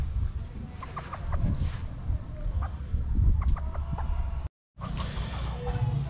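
Young pullet chickens, freshly bathed, cluck in short repeated bursts nearby, several birds calling over a low hum with a brief gap near the end.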